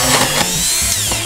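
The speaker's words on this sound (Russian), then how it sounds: "Попробуем им самим просверлить." A Mac Allister rotary engraver drills into a small workpiece, a loud close high-pitched motor whine holding steady for a moment.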